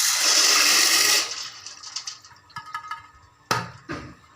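250 grams of dry macaroni poured into a pot, a steady loud rushing pour for about a second, then scattered light clinks and rattles as the pasta settles, with a couple of sharper knocks.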